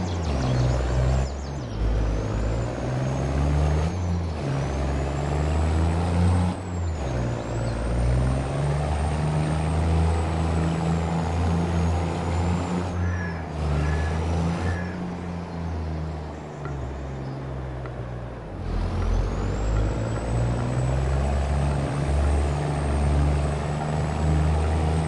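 A Volvo truck in Farming Simulator 22 holds a continuous low engine drone for about 25 seconds, with a rising whine and short shifts in tone. It eases briefly toward the end before swelling again, with no talk.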